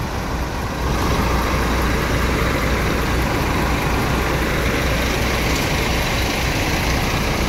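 A Scania bus engine idles loud and close in a steady low rumble, unbroken across several seconds with no voices over it.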